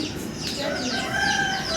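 Chickens and their chicks cluck and cheep close by, a quick run of bright, overlapping chirps and short calls that fill the brief moment without any talk.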